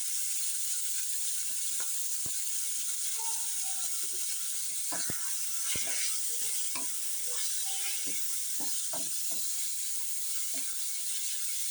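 Minced meat fries in soybean oil with green chili and salt, giving a steady, bright sizzle that runs the whole time. Scattered clicks and scrapes from stirring come through it, and no one talks.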